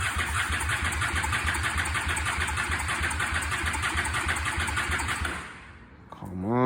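A Honda Shadow VLX 650 motorcycle cranks without starting, the starter motor churning in a fast steady chug for several seconds before dropping off, then a short whining spin-up at the end; close and loud.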